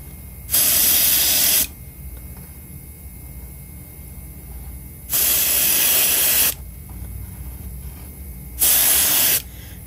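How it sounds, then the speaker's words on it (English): Airbrush spraying paint onto a Hinkle trout fishing lure through a stencil: three separate loud bursts of steady hissing spray, each a second or two long, with quiet compressor hum between them. "you can still move your airbrush in a kind of random pattern and get some pretty cool results"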